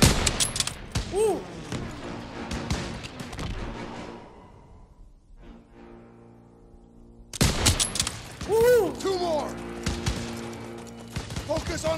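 Gunfire in Call of Duty: WWII, bursts of rifle and machine-gun shots crackling in busy volleys, dropping away to a quieter lull midway before heavy firing resumes, with shouted voices mixed in.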